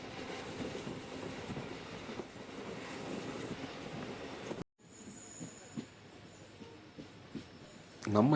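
Heard from inside a passenger train on the line to Madurai, the carriage rumbles and rattles steadily, with wheel and track noise. A brief cut is followed by quieter running and a squeal near the end, and a voice talks over it.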